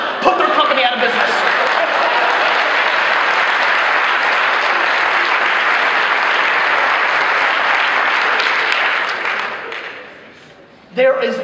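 A conference audience at a digital marketing summit in Atlanta breaks into loud, sustained applause for around nine seconds. It then fades, and a voice briefly comes back at the end.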